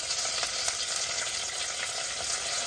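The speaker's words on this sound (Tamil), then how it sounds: "கருவேப்பிலை போட்டுக்கொள்கிறேன்" Curry leaves sizzle in hot oil in a clay pot, a steady close crackling hiss with small pops throughout.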